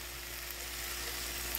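Water added to a pan of frozen, precooked broccoli for yakisoba gives a steady, dense hiss and sizzle that stays even from start to finish, close up with no talking.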